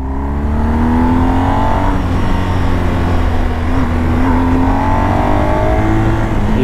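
A BMW GS 1250 Adventure motorcycle accelerates while overtaking: a loud, close engine drone climbs steadily in pitch over a constant roar of wind and road noise, with no voices.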